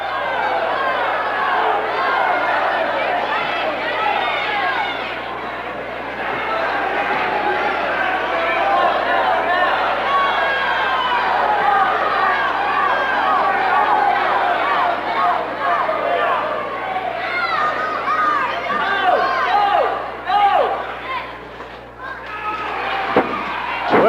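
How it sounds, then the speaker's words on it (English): A 1974 WWWF All Star Wrestling arena crowd yells and chatters continuously, a dense roar of many voices swelling and dipping, with a steady low hum beneath and a few louder bursts toward the end. "Crowd yelling, no, don't wake him up."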